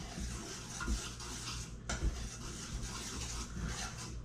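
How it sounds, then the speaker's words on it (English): A whisk mixes dry bread ingredients for cheddar beer bread in a bowl, making soft, continuous scraping and stirring strokes with occasional light clinks against the bowl, close and fairly quiet. "So we'll take our whisk here,"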